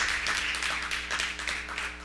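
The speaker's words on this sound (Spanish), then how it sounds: "dale un aplauso al Señor" A church congregation applauds in praise, a dense, steady wash of many hands clapping that fills the space for about two seconds without a break.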